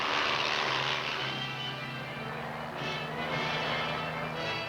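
A twin-engine Army Chinook helicopter with a rear cargo ramp drones steadily throughout, a continuous broadband engine and rotor roar with a low hum, fairly loud and uninterrupted.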